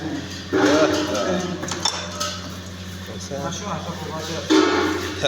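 Pots, pans and cutlery clatter and clink steadily in a kitchen where migrant workers are cooking dal after their shift, with voices talking throughout.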